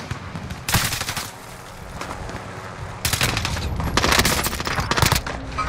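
DMR rifle fire in a video game, a rapid string of loud, close shots in dense bursts that nearly overlap, with a brief lull between volleys.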